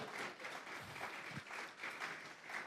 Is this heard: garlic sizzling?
no